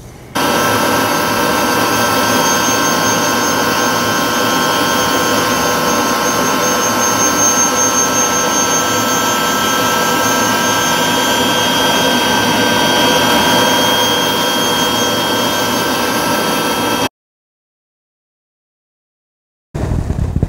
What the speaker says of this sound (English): I never grind carbide without a dust mask and my dust collector running.